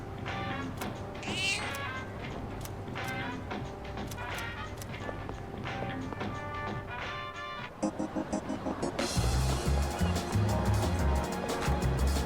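A cat meows repeatedly in the video game Persona 3 Reloaded, the calls rising over game music, followed by a louder burst of rhythmic music and effects near the end; a voice talks over parts of it.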